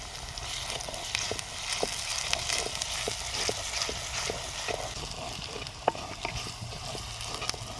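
Crushed ginger and garlic sizzle and hiss as they are sautéed in a hot pan for a tapioca and fish curry. A steady frying crackle runs throughout, with faint scattered stirring clicks close by and no speech.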